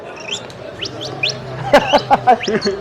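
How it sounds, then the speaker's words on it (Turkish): A bird chirps and twitters in quick, bright notes, close by, with a low murmur of voices in the background. "Kuş dili abi, kuş dilinde ötüyor."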